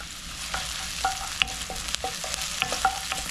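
Green onions hit hot oil in a wok and sizzle steadily, with scattered clinks and scrapes of a utensil stirring through the pan; no voices.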